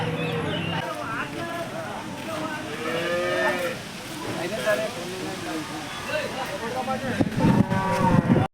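Cattle moo repeatedly at a busy weekly Tuesday village livestock market in Kondamadugu, Bibinagar, with several drawn-out calls near and far over a steady crowd murmur and background talk.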